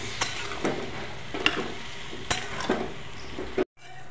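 Drumstick (sajna) chochori curry sizzles gently in a pan after a little water is added, with scattered scraping and clinking stirs over the frying hiss before the sound cuts off abruptly.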